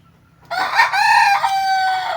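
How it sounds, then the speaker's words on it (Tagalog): A rooster crows once, loud and close, a long harmonic call rising then holding steady before trailing off. "Sabi ng manok, tuktuga! tuktugaok!"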